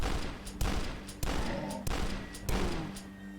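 Two shotguns blasting in the retro first-person shooter Dusk, five heavy booming shots spaced about every half second to second, each with a sharp crack and a rumbling tail, loud and close.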